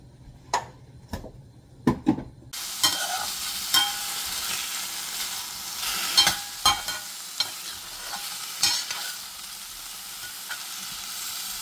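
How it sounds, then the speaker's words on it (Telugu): A stir-fry sizzles steadily in a pan after a few sharp knocks at the start, with scattered clinks and stirring scrapes over a continuous hiss. "ఇదిగో స్టిర్ ఫ్రై అయితే అయిపోయింది"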